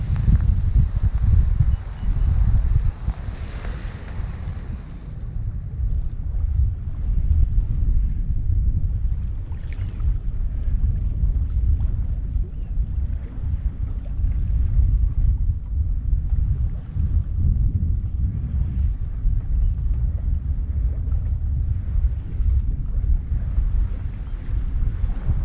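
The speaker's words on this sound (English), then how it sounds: "We have had a lot of wind in several stages of this last bit, and yeah, it's been a fast sail" A sailboat running fast through strong, cold wind, with steady low wind buffeting on the microphone, rushing water and hull noise continuing loud throughout with no talking.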